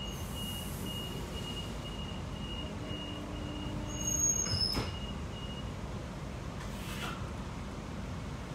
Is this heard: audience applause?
no